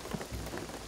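Steady, heavy rain falls in Shadow of the Tomb Raider, a dense continuous hiss of drops with a low rumble underneath and no talking.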